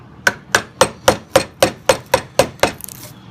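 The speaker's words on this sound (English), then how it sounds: "What I tend to do is use a mallet with the gouge for the rough shaping" A mallet strikes a Pfeil wood carving gouge in nine evenly spaced, sharp knocks, close and crisp with a woody ring, and no one speaks.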